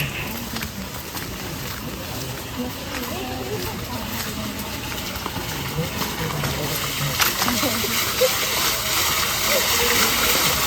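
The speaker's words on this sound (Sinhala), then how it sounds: "මේ පිහිල්ල නම තමයි කන්දකුමරු පිහිල්ල." Cold water pours down the Kandakumaru waterfall in a rural Sri Lankan village setting, making a continuous rushing hiss that builds slightly toward the end while someone talks over it.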